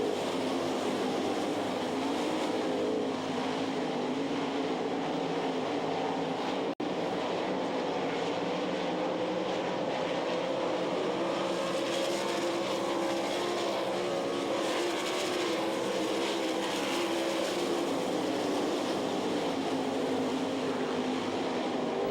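Sprint cars roar around the track during a heat race at the Knoxville Nationals, a continuous distant engine drone that rises and falls faintly as the pack circles.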